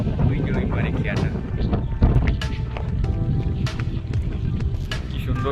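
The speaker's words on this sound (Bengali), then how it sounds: "প্রচণ্ড হাওয়া দিচ্ছে এই জায়গাটায়, নদীর ধারে তো, তাই একদম সব উড়িয়ে দিচ্ছে আর কি" Strong wind gusts across an open riverside bank, buffeting the microphone with a steady low roar and rustle throughout, with faint human activity underneath.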